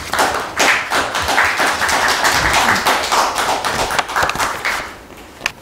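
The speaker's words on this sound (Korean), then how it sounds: "박수로 환영하겠습니다" An audience at a Buddhist forum lecture in a hall claps steadily to welcome a university professor speaker, dense continuous applause from a moderate crowd that tapers off at the end.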